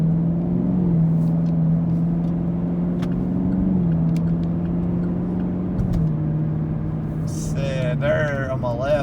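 A car cruising along a road in Cleveland, Tennessee, its steady engine drone and tyre hum continuous and close throughout, with a brief change near the end.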